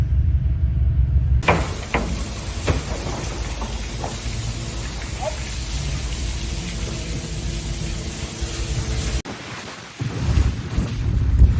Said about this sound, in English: the wind is just starting to come on here now